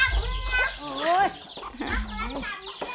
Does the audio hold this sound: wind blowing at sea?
no